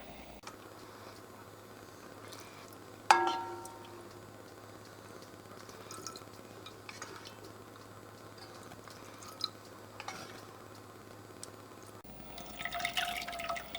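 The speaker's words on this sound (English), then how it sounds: "So we're just going to run this through the strainer." Braised lamb shank sauce drips and trickles through a strainer, a run of quiet, irregular wet drops with one sharp clink near the start, heard alone at low level in a kitchen.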